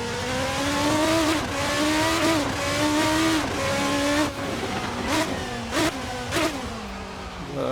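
A Praga R1 V8 race car lapping Tsukuba circuit, engine revving hard through rising and falling gear changes, loud and close with sharp throttle blips on downshifts toward the end.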